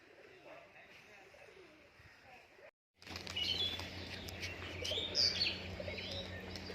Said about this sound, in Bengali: সব দাঁড়িয়ে বাজি করা পায়রা।